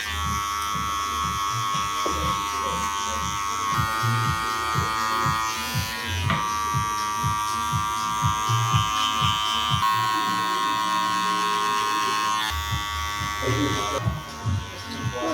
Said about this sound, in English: That's the majority of the clipper work done.